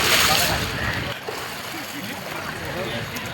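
Water sloshes and splashes as people bathe in the Ganges, a loud burst at first that settles into steady rippling, with people talking over it.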